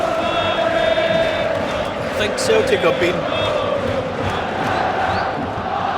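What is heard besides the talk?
football crowd at Rangers v Celtic Old Firm derby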